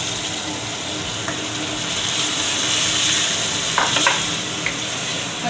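Onions and ginger paste frying in a pan, a steady broad sizzle throughout with a few brief clinks of stirring near the end.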